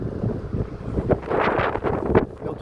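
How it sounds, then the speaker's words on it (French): Outdoor wind buffets a microphone on a walking trail, with irregular low rumbling gusts that rise and fall, loud and close, without speech. "je sais pas si vous entendez quelque chose, c'est un peu de vent"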